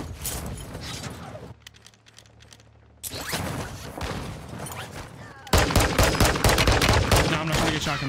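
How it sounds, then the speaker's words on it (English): Shotgun blasts and other gunfire in Warzone 2 gameplay, several loud sharp bursts with a brief quieter gap, dense and close. "Shotgun."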